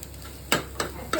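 Rice being stirred in a frying pan, with three quick scraping strokes over a soft, steady sizzle, close and brief with no talk.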